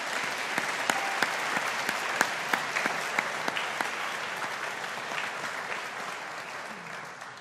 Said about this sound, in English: Let's give a round of applause to your supporters